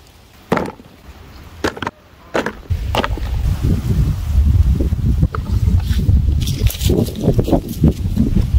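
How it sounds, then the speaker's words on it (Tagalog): Strong autumn wind roars steadily through most of the clip, a loud low rumble after a few sharp knocks and taps at the start. "Lakas ng hangin."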